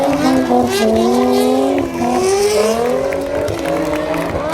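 A car doing donuts at the Santa Pod Bug Jam 2022 drag-strip show, engine revving hard with rising and falling pitch and tyres squealing continuously, loud and close, with no talk.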